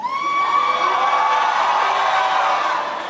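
Large audience cheering and applauding after a line in a political speech, a loud sustained roar of crowd noise with whoops and yells, steady throughout and alone without talk.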